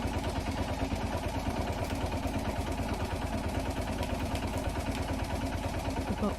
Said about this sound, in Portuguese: Esse motor aqui